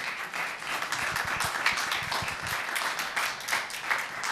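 Steady audience applause at a Persian singing competition show, Superstar 2, dense continuous clapping from a large crowd throughout, fairly close and even in level, with no voices over it.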